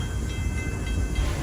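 Passenger train rolling slowly along a railroad carrying weekend riders, a steady low rumble of wheels and cars with no distinct horn, continuous and fairly close.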